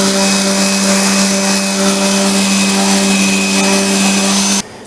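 A loud, steady power sander whirs continuously against a wooden cutting board, with a constant hum and rough grinding noise, then cuts off abruptly at the end.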